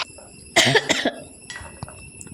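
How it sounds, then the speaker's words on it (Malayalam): A single harsh cough bursts out close by, followed by a softer second cough, with quiet background otherwise. "ചുമയുണ്ട് കേട്ടോ ചുമ മാറിയിട്ടില്ല"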